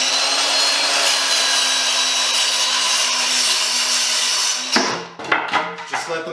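A power saw whines loudly and steadily through a wooden board, then cuts off abruptly, leaving a few clattering knocks as the cut piece falls away in a workshop.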